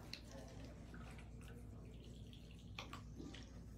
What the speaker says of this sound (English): So, I'm just gonna pour some more monomer.